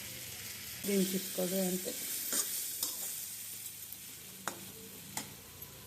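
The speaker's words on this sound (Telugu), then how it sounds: "ఫ్రై చేసి పెట్టుకున్న ఈ కార్న్ వేసుకోవాలి" Fried corn kernels tossed in a hot pan with soy sauce and tomato ketchup, giving a soft sizzle with scraping stir strokes and a few sharp spatula clicks; a voice speaks briefly at the start.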